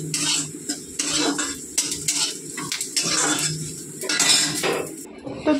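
Fried hilsa fish is lifted out of a hot wok with a metal utensil, giving repeated scraping and clanking strokes over a faint sizzle of oil, close and fairly loud.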